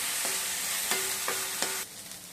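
Chopped vegetables sizzle steadily in a hot pan for poha upma while a utensil scrapes and stirs a few times, then the sizzling softens.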